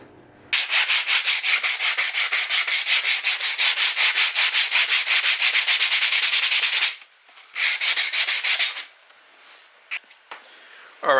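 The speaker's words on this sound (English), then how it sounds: "Now I have to make all the other parts and a lot of sanding." Steady back-and-forth sanding of a wooden katana built from popsicle sticks, loud and close, with rhythmic strokes running for several seconds, a short pause, then another burst of strokes.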